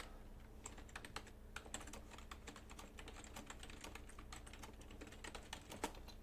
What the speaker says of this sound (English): you type in what the video is about